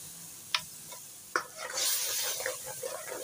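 Onion-tomato paste for chicken karahi frying in a karahi, a steady close sizzle swelling in after two sharp clinks of a spoon against the pan, with stirring scrapes running through it.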